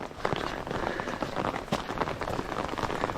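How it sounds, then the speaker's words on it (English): Steady rain falls during a bush hike in the Blue Mountains, New South Wales, Australia, as a constant soft patter on leaves and ground with no other sounds. "so it's just constant rain now, so no more storms by the sounds of things"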